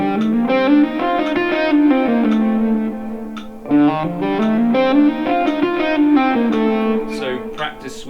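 Electric guitar playing a smooth legato line phrased on the third triplet of the beat, a flowing run of connected notes with light effects, close and steady with no talking.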